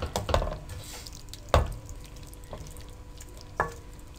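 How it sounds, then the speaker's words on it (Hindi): Aloo keema stirred in a pot, wet squelching and a few distinct clanks of the spoon on the metal rim at irregular intervals, fairly quiet and close. "इसको आप अच्छी तरह से मिक्स कर दें।"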